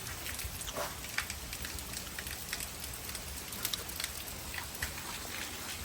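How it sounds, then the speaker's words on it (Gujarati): Steady rain hisses down on a farm field with scattered drops pattering nearby, a constant wash of noise with no talking. "ચાલુ થઈ ગયું છે વરસાદ"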